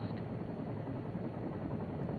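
A 1970 Air Force UH-1 helicopter in flight, a steady dense rotor and engine roar that holds unbroken throughout, moderately loud with no voices.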